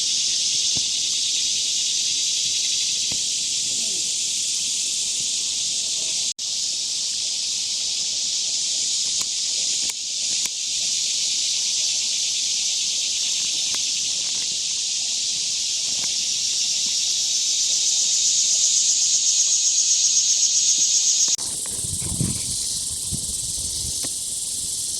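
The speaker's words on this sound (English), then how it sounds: "The frogs are kind of like cicadas." Frogs calling near a river on a canoe trip, a dense steady high-pitched drone much like cicadas that swells and holds throughout, ending with a brief shift and some nearby rustling.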